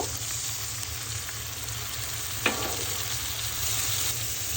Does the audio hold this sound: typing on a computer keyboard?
no